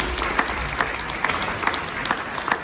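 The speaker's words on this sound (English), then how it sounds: "everyone, please give Mona a big round of applause" Applause from a university audience at a magic and mind-reading show, a dense and fairly close wash of clapping with a few sharper individual claps standing out, holding steady for a few seconds.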